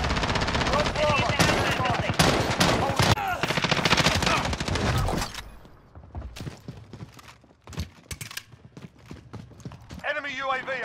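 Gunfire in a Call of Duty match with a FAMAS rifle: rapid bursts of sharp automatic shots in the first half, then scattered single cracks and clicks over quieter game sounds, with a voice heard near the end.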